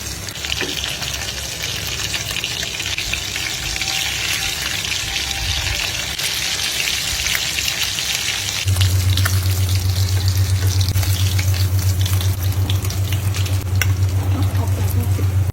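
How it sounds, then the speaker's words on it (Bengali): Hilsa fish pieces and eggs frying in hot mustard oil, a steady loud sizzle that grows denser and stronger partway through, with a low hum underneath. "তেলটি গরম হয়ে আসলে ইলিশের পিসগুলো ছেড়ে দিচ্ছি তেলের ভিতরে"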